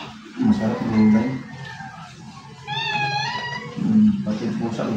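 A cat gives a single rising-and-falling meow in the middle of the stretch, moderately close, with people talking before and after it.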